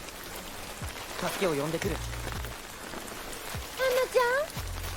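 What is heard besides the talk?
rain falling at night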